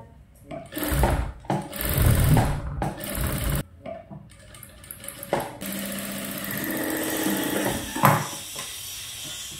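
A sewing machine runs in bursts while stitching the lining of a princess-cut blouse, loud close whirring runs separated by pauses and handling noises.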